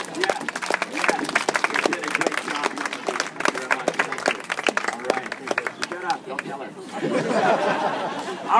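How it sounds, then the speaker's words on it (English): Scattered clapping and cheering from an outdoor crowd at a street magic show in New Zealand's South Island, uneven and lively, mixed with chatter and laughter, growing into a louder crowd swell near the end. "Give her a big round of applause, folks."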